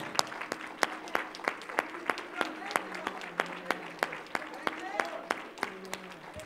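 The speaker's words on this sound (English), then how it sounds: "let's stand and just give the Lord an applause for how he's blessing the pastor on this morning." A church congregation at a Thanksgiving worship service applauds, with sharp, rhythmic claps ringing out in a steady beat over a softer wash of clapping and murmuring voices.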